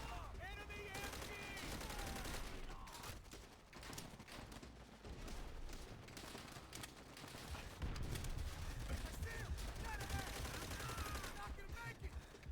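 Enemy machine gun fire in a war video game: dense, rapid bursts of automatic shots mixed with other gunfire and battle noise, continuous and loud, with voices now and then.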